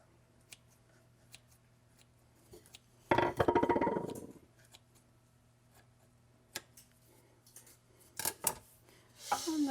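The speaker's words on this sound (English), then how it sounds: "I'm going to cut it into 4 pieces, and I'm using kitchen scissors to do that" Kitchen scissors cut through calzone dough in a quick burst of crisp snipping, close and fairly loud, with light clinks of dishes before and after.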